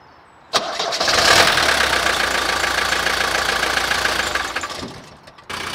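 An old vehicle engine cranks and catches with a sudden loud burst, then settles into a rough, shaking idle close to the microphone before dropping off near the end.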